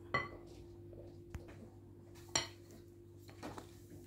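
Waffle batter with yeast being mixed in a bowl, quiet spoon or whisk scrapes with a few distinct clinks against the bowl under a low background hum.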